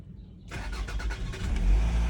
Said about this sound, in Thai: เดี๋ยวผมเปิดประตูให้ฟัง เสียงเครื่องยนต์กันดู